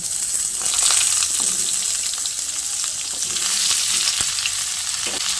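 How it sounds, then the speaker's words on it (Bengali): Potatoes fry with radish and pumpkin in a pan, a loud, close, continuous sizzle and crackle with bursts of stirring as the vegetables hit the hot oil. "আলুটা কিছুক্ষণ ভেজে নিয়েছি। তারপর এর মধ্যে মূলো আর কুমড়োটা দিয়ে দিচ্ছি।"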